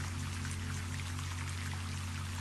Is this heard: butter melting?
no